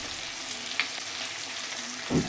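Ginger and cumin paste sizzles in a hot pan with tomato for a catfish curry, giving a constant close hiss. Soft scraping comes through, and a brief clatter sounds near the end.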